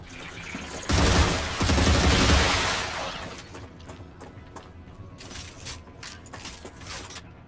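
Gunfire from the Star Rupture video game: a loud, dense burst of rapid shots early on, fading into scattered mechanical clicks and lighter intermittent reports, with no talk over it.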